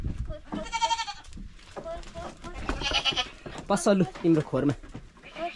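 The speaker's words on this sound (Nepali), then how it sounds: "साथीहरू बाख्रा लिएर आउँदैछ" Goats bleat in a rural Nepali village, a wavering cry rising clearly at the start and again later, with people talking over and around the animals close by.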